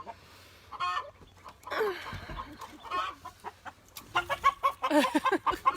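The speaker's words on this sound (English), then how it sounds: "one of the roosters, pinned up in here" A rooster clucks close by in short, uneven bursts, growing busier and louder toward the end, with quiet gaps between.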